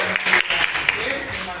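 A classroom full of students breaks into brief, uneven clapping, several quick bursts of applause mixed with voices talking over it.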